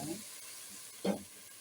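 Mashed green beans and caramelized onions are stirred in a pan, a low steady sizzle under one brief, louder scrape of the utensil partway through.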